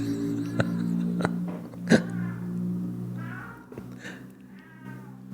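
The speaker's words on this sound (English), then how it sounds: "can you hear my cat wailing in the background?" A cat lets out drawn-out, wavering meows, a few short cries in sequence close by, over a low steady hum with sharp clicks.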